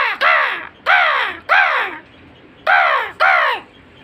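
A human voice imitates a crow's caw, giving five harsh, loud, close cawing calls in two groups with short gaps between them.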